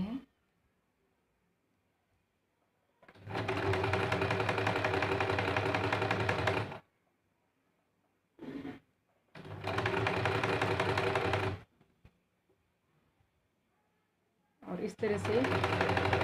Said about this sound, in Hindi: इस बीच के नॉच तक हम धीरे धीरे इस प्रकार से सिलाई करते हैं